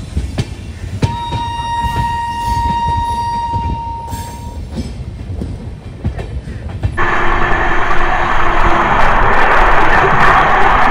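Kolkata–Sairang express 13125 rolling into Naihati Junction platform 6 in West Bengal, a loud close rumble with a long steady horn blast early on, then heavier wheel noise and clatter building toward the end.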